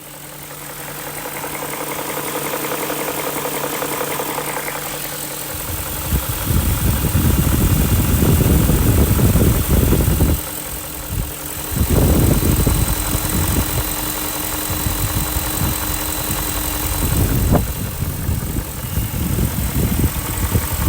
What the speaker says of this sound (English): we'll get in close with the microphone so that you can hear this engine at idle